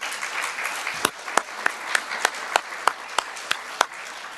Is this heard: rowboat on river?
no